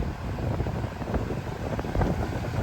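Strong wind at the shore buffeting the microphone in continuous gusty rumbles, loud and close, with no voices.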